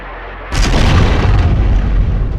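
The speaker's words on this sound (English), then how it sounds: "Firing from starboard at point-blank range, Rodney made the kill shot." A heavy boom from battleship shellfire erupts after a brief low rumble, followed by a sustained loud, roaring blast and rumble that fills the rest of the moment.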